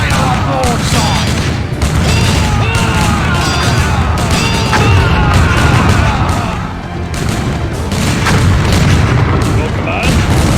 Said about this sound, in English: Fire on broadside!